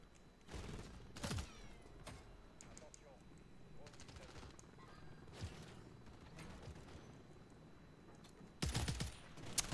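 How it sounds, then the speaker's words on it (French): Gunfire in Call of Duty on the Shipment map, loud bursts near the start and again at the end with scattered shots between, under game clatter and people talking. "Ah ouais, les tirs."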